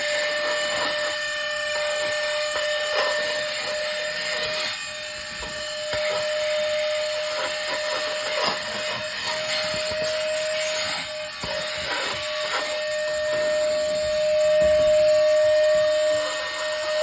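A Rossi cordless handheld car vacuum runs continuously with a steady whirring whine and airy rush, close by, with no voices over it.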